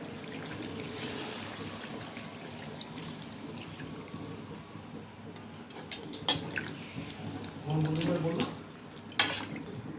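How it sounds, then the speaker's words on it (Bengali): Water is poured into a pan of hot oil and spices for a chhana curry, making a rushing, bubbling hiss that breaks into sharper spits and splashes near the end. "এরকম যখন তেল ছেড়ে দিবে তখন এই জলটা দিয়ে দিতে হবে।"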